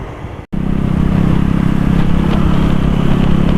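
A bore-up Honda Supra motorcycle running Vivo Revvo 89 fuel revs up hard after a brief cut, its engine a loud, steady, close buzzing drone that holds for several seconds without any talking.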